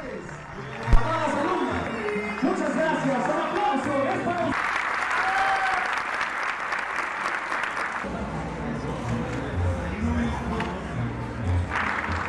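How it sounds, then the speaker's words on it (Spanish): Sustained audience applause fills a public event, a dense steady clapping that continues throughout with voices talking over it. "El aplauso fuerte, por favor, para ellos."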